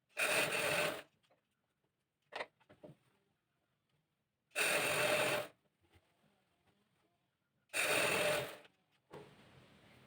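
Bursts of a sewing machine stitching a chudithar pant, three loud, close runs of rapid rattling about a second each, separated by quiet pauses with faint handling of the cloth.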